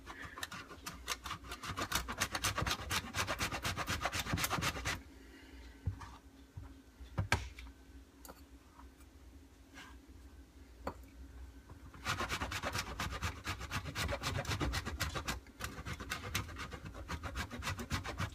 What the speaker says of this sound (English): You're gonna get to see me grating some cheese.